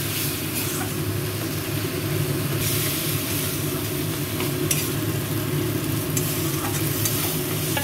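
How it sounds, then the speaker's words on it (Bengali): Mustard paste sautés in a pan for a fish and bitter gourd dish, giving a steady dense sizzle with continuous stirring and scraping noise throughout, loud and close, with no talking. "সরষেটাকে কষাবো।"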